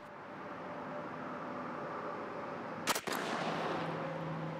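A single 28 gauge shotgun shot during a choke pattern test goes off as one sharp, loud blast midway through, over steady outdoor background noise, with no talking.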